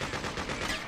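Rapid automatic gunfire from the video game Freedom Fighters rattles loudly and continuously in a dense burst of shots, close and sustained for the whole moment.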